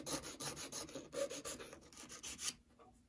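A file scrapes back and forth along the flash on an HO scale model locomotive frame in quick, even rasping strokes, close up and alone, ending in a brief quiet.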